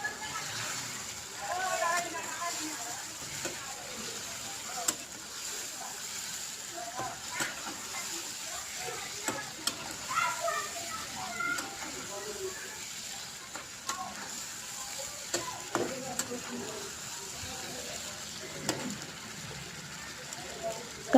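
Cumin-coriander spice mix frying in a pan for a chicken curry, a soft, busy sizzle with intermittent stirring scrapes and clicks running for a long stretch, while a person talks over it at times.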